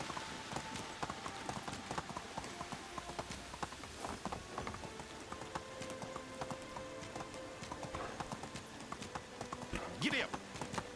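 Steady clip-clop of horse hooves while riding in the medieval video game Medieval Dynasty, a fairly quiet even trotting rhythm with a brief whinny near the end.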